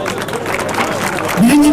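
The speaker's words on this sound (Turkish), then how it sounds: "Evet, kardeşim için bir alkış." Crowd applause for a brother at an outdoor highland festival event, a broad clapping wash with a voice rising over it near the end.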